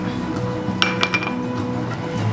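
Dishes clink while an egg yolk wash is prepared for an apple pie: a few sharp, close glass and utensil clinks bunched in the middle, over a low kitchen hum with no voices.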